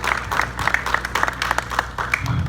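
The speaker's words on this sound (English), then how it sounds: "Let's hear a round of applause for Weston Walker." Applause from a gathered crowd at a subscriber celebration, a steady patter of many hands clapping at moderate distance for a couple of seconds, with a few louder individual claps rising out of the mass.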